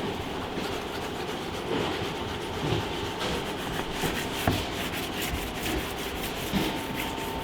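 A clay bar rubs across faded red paint on a classic car, giving a steady, close scratchy friction with small bumps and squeaks as it moves back and forth, with no talk.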